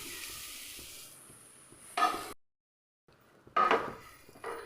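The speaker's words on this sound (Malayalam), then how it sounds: "അതേ സെയിം നെയ്യിലേക്ക് തന്നെ നമ്മൾ തേങ്ങ ചേർത്ത് കൊടുക്കാം." Grated coconut sizzles in ghee in a pan as a soft, hissing fry. Spatula scrapes and stirs cut in twice, and the sound drops out briefly in the middle.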